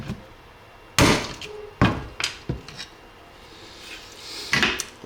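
A 2.5 pound drilling hammer strikes an airsoft lower receiver, giving several sharp, loud impacts at uneven intervals: two heavy blows followed by lighter taps, close up with no talk.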